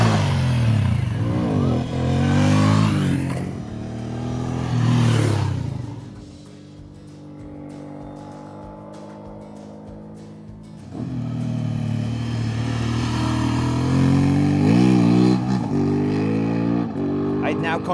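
An Aprilia Dorsoduro motorcycle revs and pulls away up a canyon road, its engine climbing in pitch through repeated accelerations, easing off midway, then rising again, loud and close.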